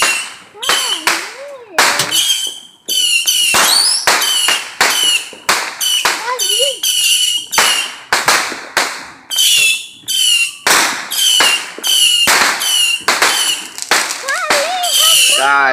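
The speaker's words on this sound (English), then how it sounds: "Gosh, look at these fireworks," Fourth of July fireworks burst in rapid, loud cracks and booms one after another, with whistling rockets and crackling overlapping throughout.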